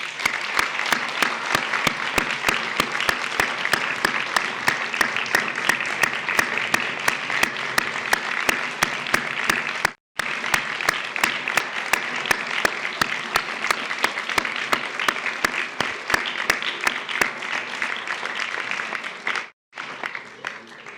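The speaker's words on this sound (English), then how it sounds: "join with myself and colleagues in Council in a round of applause to thank family and friends" Sustained applause from an audience at a medical graduation ceremony, many hands clapping densely and steadily for about twenty seconds with two brief pauses, thanking family and friends.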